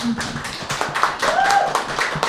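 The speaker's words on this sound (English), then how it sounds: "Can I have another round of applause for Becky?" An audience at a live open mic poetry evening claps for a poet, a brisk irregular patter of hands with some voices and chatter underneath.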